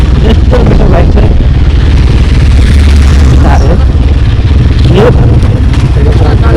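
A Honda CRF250 Rally motorcycle rumbles along on a ride, its engine loud and constant under heavy wind buffeting, while riders talk over the noise.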